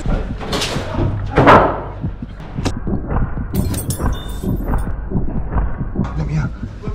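A trap door bangs shut during an airsoft game, a few sharp knocks and a loud slam near the middle, with scuffling movement and people talking around it.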